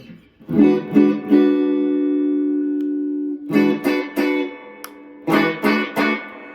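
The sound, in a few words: electric guitar tones through effects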